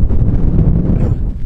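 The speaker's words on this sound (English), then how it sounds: "Impossible to talk into the microphone because it's so windy." Strong wind buffeting a microphone on high ground, a loud, continuous low roar and rumble with no voice over it.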